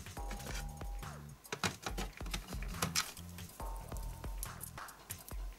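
A plastic bag of screws for a Yokomo RC drift car chassis is handled and opened, giving a close, irregular series of crinkles and small ticking clicks with some faint rustling between.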